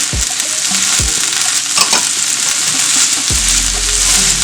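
Bell pepper and carrot stir-fried in olive oil with garlic and onion for shrimp and pumpkin stir-fry, a loud steady sizzle with a few clanks of the utensil against the pan, no talking.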